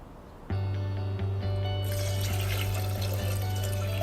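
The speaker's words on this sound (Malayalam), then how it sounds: "അപ്പോൾ അതിനനുസരിച്ചിട്ടുള്ള വെള്ളം നമ്മളിതിലേക്ക് വെക്കുക" Water gushes from a tap into a pot for making kanji, starting suddenly after a moment of quiet and then growing stronger and splashier, close and continuous.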